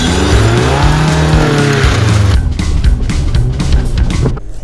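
A tuned Audi A3 quattro 1.9 TDI engine revs hard while tires squeal and spin, loud and close, then the revving sputters in short bursts.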